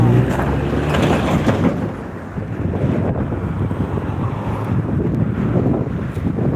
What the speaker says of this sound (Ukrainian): Ой, вітер такий, ух, прохладненько трошки стало